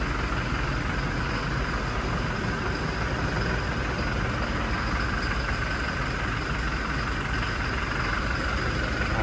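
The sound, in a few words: vehicle engine idling while warming up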